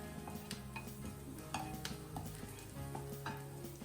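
Fresh curry leaves and green chilies are stirred in a hot pan for sabudana khichdi, a spoon scraping and clinking against the metal over a soft sizzle, close and without speech.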